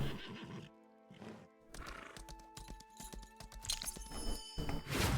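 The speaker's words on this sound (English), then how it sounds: "Let me hop on my little horse here." A horse in the video game Lost Ark whinnies loudly near the start, followed by a steady clip-clop of hooves and a few more neighs, with game sound effects layered over the hoofbeats.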